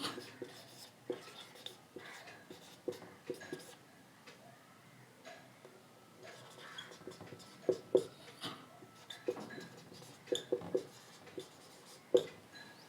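A teacher writes out notes during a Hindi-language lesson on poverty, with faint scratchy strokes and scattered sharp taps heard quietly under and between spoken explanation.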